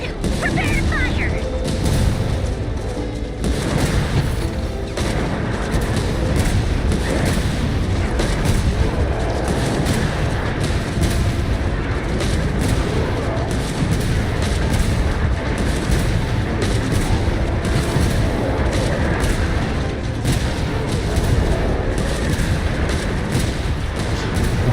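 Weapon fire in Genshin Impact: steady, dense booming and crackling blasts rolling on continuously for the whole stretch, loud and close, with game voices speaking underneath.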